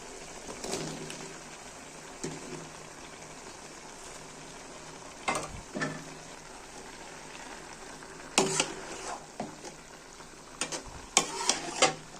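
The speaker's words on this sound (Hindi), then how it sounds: "आलू को हम पालक के नीचे करेंगे ताकि अच्छी तरह गल जाए" Potatoes and spinach cooking in mustard oil in a pot, stirred with a spoon: a soft continuous sizzle with scattered scraping knocks against the pan, fairly quiet and close, no voices.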